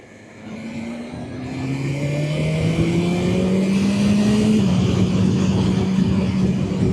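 Motorcycle engine, a Suzuki GSX-8R or BMW S1000RR ridden in dynamic rider mode, revving upward through a gear, a close, loud rising whine with a shift near the end, then a steady drone.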